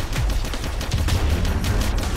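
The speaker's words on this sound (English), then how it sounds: "Man, they just can't stop shooting, can they?" Enemies keep shooting in the first-person shooter game The Esc4pe, with rapid, loud gunfire crackling continuously over a low rumbling backdrop.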